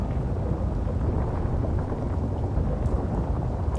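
Steady rain roars with a low thunder rumble underneath, dense and continuous without breaks, heard in the Space Engineers video game during an expedition, with no talking.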